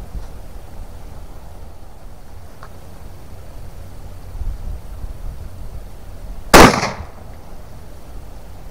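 A Yildiz TK12 single-shot 12 gauge shotgun fires one low recoil shell, a single sharp loud blast standing out from quiet outdoor background with no talking.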